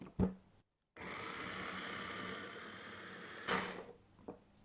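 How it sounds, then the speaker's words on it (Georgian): An electric food chopper whirs steadily for about two and a half seconds while chopping ingredients for homemade ketchup, bracketed by short knocks and clunks of the lid and bowl, close and fairly loud. "კეჩუპის მომზადებაში დამეხმარება ეს ჩოფერი."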